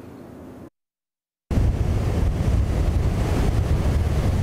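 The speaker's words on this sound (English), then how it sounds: "under a big sky are even bigger waves, waves that might overtake the sand soon in Sandbridge" Big ocean waves crash and surge onto the beach at Sandbridge with gusting wind buffeting the microphone, a loud, continuous roar after a brief gap of silence.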